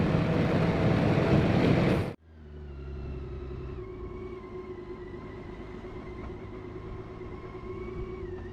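BMW K1600 B motorcycle engine under way, a loud broad roar that suddenly cuts off, then settles into a steadier, quieter hum with faint tonal whine, no voices.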